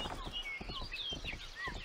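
A stolen horse trots in the game Rustler, its hooves beating a steady, quick clip-clop rhythm up close, with whistling tones and a faint voice in the background.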